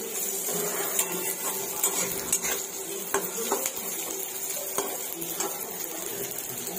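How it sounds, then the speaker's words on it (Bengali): Raisins are stirred in hot ghee, a dense bright sizzle running throughout with light scrapes and taps of a spoon against the pan, close and fairly loud, with no speech. "এরপর কিশমিশটা দিয়ে দিলাম, একটু নাড়াচাড়া করে"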